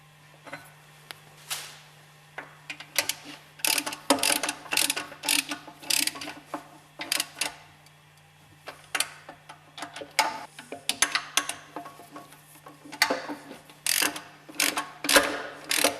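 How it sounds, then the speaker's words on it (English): Three hex head screws are bolted tight onto a spindle, giving bursts of quick ratcheting clicks with short pauses between them, close by and fairly quiet. "Bolt tight the spindle with the 3 hex head screws."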